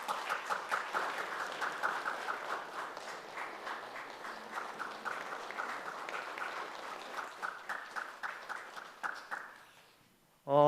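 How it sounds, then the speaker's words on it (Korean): Applause from a church congregation during a Sunday service, steady dense clapping for about ten seconds that gradually thins into scattered claps near the end. "큰 박수 해주시기 바랍니다"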